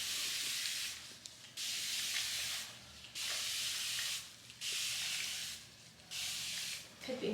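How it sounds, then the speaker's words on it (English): A spray bottle mists hair in repeated long hissing bursts, five or so in a row with brief gaps, close up and fairly loud. "So I'm gonna take this spray bottle"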